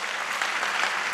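Steady applause from a stand-up comedy audience, dense clapping that fills the whole moment without pause.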